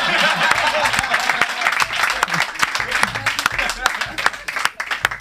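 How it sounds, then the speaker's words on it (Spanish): A studio audience at a Spanish television show gives a sustained burst of applause, with dense overlapping clapping and some scattered louder claps running through the whole stretch. "Y un aplauso."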